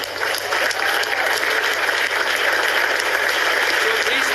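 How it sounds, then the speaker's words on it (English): Audience applause honouring the students of Bangladesh's mass uprising at a speech, a dense, steady wash of clapping sustained throughout, loud and even with no talk over it. "Let's give them a big applause"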